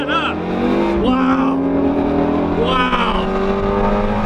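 Car accelerating hard in a street pull race against a Porsche GT3 RS, a loud sustained engine roar rising in pitch through gear changes, with people talking over it.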